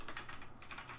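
Quiet, quick keystrokes on a computer keyboard while writing code comments, a soft irregular patter of clicks with no voices.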